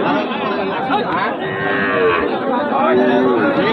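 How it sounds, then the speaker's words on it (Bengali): Cattle low repeatedly at a busy border-area cattle market, several loud, close moos overlapping and following each other, with crowd chatter underneath. "চলুন আপনাদের আরও কিছু গরু দেখাই"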